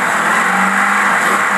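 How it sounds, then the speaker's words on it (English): Car engine fitted with a Holley 4780 double pumper carburetor, mixture set around 11.5–12 to 1, roars loud and close in a sustained high rev with no talking. "Rev it up a few times and I'm gonna shut it off."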